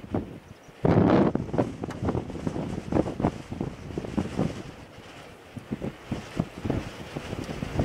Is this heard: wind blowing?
yes